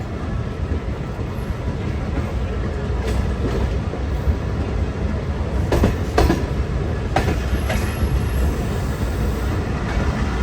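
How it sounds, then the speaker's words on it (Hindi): Passenger train running on rails between Karachi and Nawab Shah, heard from on board as a loud, steady rumble with rhythmic clickety-clack of wheels and a few sharper metallic knocks. "बहुत खूबसूरत सफ़र जारी है हमारी ट्रेन का।"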